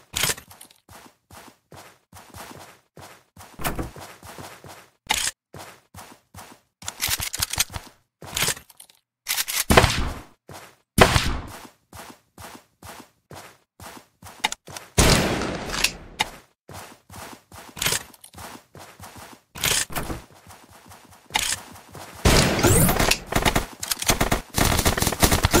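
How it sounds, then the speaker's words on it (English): Shotgun gunfire in the Zombs Royale video game, sharp repeated blasts in irregular bursts and single shots, loud and close, separated by quieter gaps. "Listen to the shotguns."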